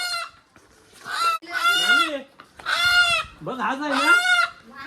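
A live rooster caught in a field clucks and squawks loudly in several close, harsh bursts, with a short spoken phrase heard between the calls.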